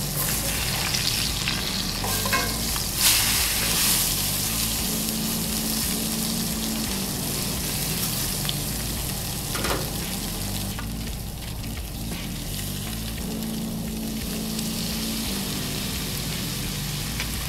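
Blackened fish fries in a hot cast iron skillet with a steady, dense sizzle throughout, broken by occasional scraping and clinks of a utensil against the pan.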